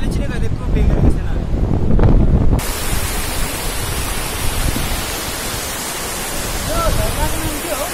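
Strong wind buffeting on a high mountain trek trail, a loud continuous rushing roar that fills the whole stretch, with heavier gusts in the opening seconds.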